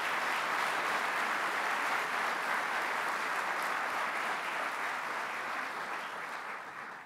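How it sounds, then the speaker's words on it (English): Sustained applause from a seated audience at the 2017 Environment Virginia Symposium keynote fills the room for several seconds after the color guard and horns are recognized, then starts to fade. "Could we have a quick round of applause for the color guard and the horns?"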